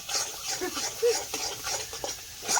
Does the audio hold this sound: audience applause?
no